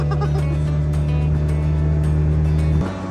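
A motorboat engine drones loudly on a lake near an island in Michoacán, a heavy, steady low rumble close by that shifts and drops slightly near the end.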